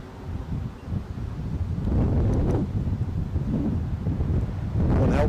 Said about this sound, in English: the wind has just started picking up again